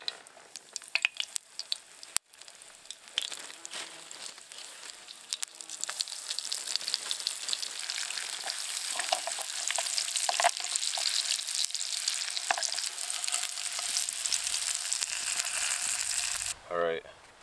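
Meat sizzles and crackles steadily in a frying pan too small for the whole batch, cooked over a campfire during a solo wilderness canoe trip in Wabakimi, with occasional stirring and scraping and no talking.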